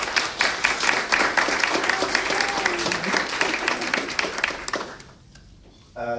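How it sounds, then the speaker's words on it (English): A crowd applauds with dense, sustained clapping that fades out after about five seconds, followed by a brief burst of sound. "Let's give him a round of applause."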